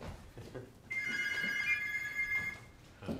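A telephone rings indoors, one trilling electronic ring lasting about a second and a half and clearly audible, with faint muffled talk before and after.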